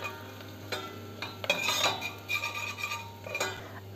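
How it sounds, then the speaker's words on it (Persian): Onion and turmeric are sautéed in a pan with a soft sizzle under scattered clinks and scrapes of a utensil stirring against the metal. Everything stays fairly quiet and close. "یه مقدار تفت میدم با زردچوبه"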